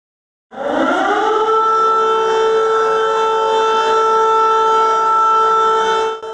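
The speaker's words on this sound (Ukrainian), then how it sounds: "Сирена посеред урочистої лінійки 1 вересня" An air raid siren winds up during a school first-day ceremony in Ukraine, then holds a loud, steady wailing tone for several seconds, heard alone with no talking.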